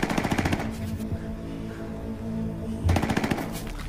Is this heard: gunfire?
yes